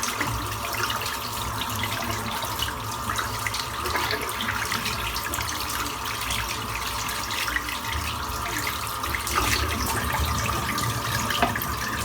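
Water runs steadily from a tap while shaving soap is rinsed out, a constant close splashing hiss that keeps up for the whole stretch without pauses, with no voices present.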